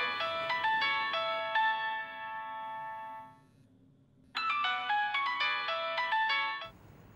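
A mobile phone plays a melodic ringtone for an unanswered call. The bright electronic tune rings for about three seconds, stops briefly, then starts again. It sounds clear and fairly close, with no talking over it.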